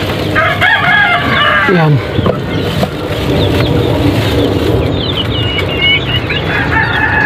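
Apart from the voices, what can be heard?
Texas and native laying hens clucking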